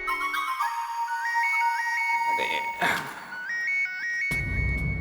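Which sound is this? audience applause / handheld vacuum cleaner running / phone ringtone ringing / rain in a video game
phone ringtone ringing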